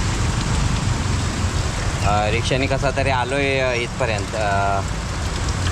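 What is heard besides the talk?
rain falling in Chiplun street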